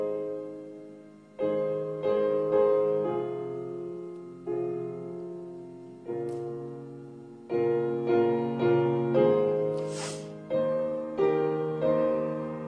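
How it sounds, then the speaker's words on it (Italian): The priests' chorale from Verdi's opera Aida plays as a slow, static sequence of sustained chords, each phrase starting with a clear attack and then fading. The passage is moderately soft, with no talk over it. "un corale dei sacerdoti che suona così"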